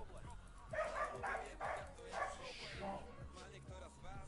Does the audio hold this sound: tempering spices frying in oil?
no